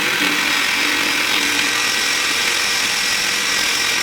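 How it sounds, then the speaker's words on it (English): A smaller handheld power drill bores into a metal drag block with a steady high whine and grinding hiss that runs unbroken, close up, and no one speaks. "she's going to attempt the drilling, and we found a smaller drill"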